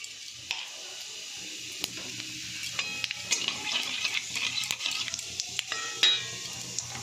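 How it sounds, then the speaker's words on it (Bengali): Cumin seeds tempering in hot oil in a home kitchen pan, a faint continuous sizzle and crackle with occasional small pops and stirring clinks, no talking. "তো বন্ধুরা আমি একটু জিরে ফোড়ন দেবো।"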